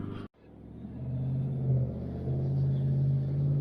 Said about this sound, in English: Wait for that truck to go by.